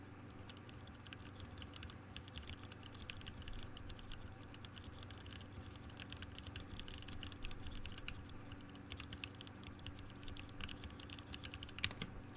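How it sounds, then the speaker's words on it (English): Gentle typing on a Unikorn mechanical keyboard gives soft, fairly quiet keystrokes in an even stream over a faint steady hum, with one sharper tap near the end and no speech. "And now me typing softly."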